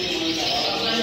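A small black copper mosaic songbird chirps in steady, close, fairly loud calls over a busy background hum at a bird competition gallery.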